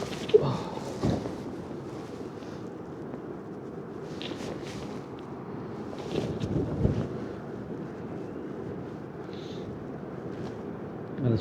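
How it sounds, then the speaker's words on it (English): Strong gusting wind at a cold mountain campsite roars steadily past the microphone in low rumbling surges, with a few light knocks and shuffles nearby and no talking. "it's blowing a hoolie still, although it's worse on the other side of the wall"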